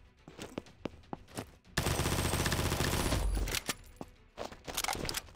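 MP5 submachine gun in a video game fires a sustained loud automatic burst of about two seconds, with single shots and short bursts on either side.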